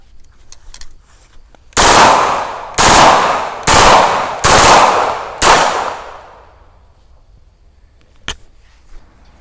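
A Turkish-made Ekol Uzi-style blank gun test-fired in full-auto mode: five loud, sharp blasts in quick succession, each with a ringing echo tail, then quiet with faint handling noises.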